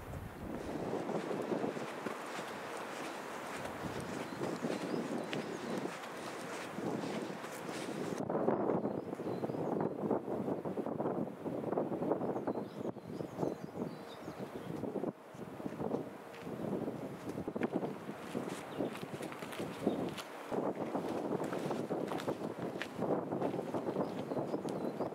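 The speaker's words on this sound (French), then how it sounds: "il y a un peu de vent" Wind sweeps across a rocky mountain summit on the Valsberg-to-Walhalla hike, a continuous broadband roar with gusty surges and buffeting against the microphone, steady throughout with no talk.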